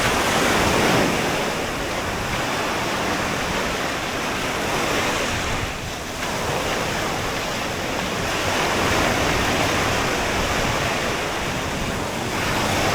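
Ocean waves wash steadily onto a beach with warm water, a continuous loud surf roar with gentle swells and some wind buffeting the microphone, no voices.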